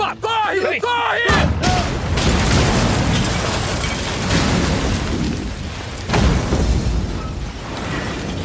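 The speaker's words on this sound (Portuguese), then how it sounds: "É uma bomba!" A bomb goes off close by, a sudden loud boom followed by a long, dense rumble that keeps roaring and churning for several seconds, with a second burst partway through; people speak in the moments before the blast.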